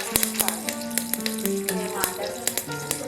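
Cumin seeds and curry leaves hit hot oil for a mixed sprouts sambar, giving a close, lively sizzle with sharp crackles and pops scattered across the few seconds.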